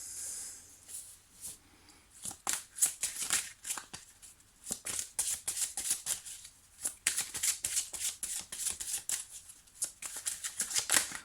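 Petit Lenormand cards are shuffled and drawn in a reading, with quick, close, papery riffles and flicks in irregular bursts.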